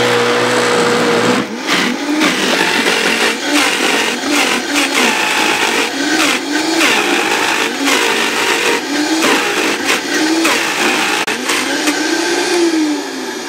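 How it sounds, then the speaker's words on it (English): A loud blender whirs continuously while dry raw vegan pizza crust ingredients such as buckwheat are blended, its motor pitch rising and falling in repeated surges over roughly twelve seconds. "we're gonna blend the dry now"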